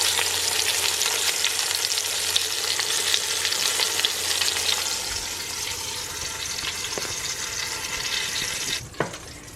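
A pork roast sears in an Instant Pot on sauté, giving a steady loud sizzle and crackle that eases slightly midway, ending with a couple of sharp clanks near the close.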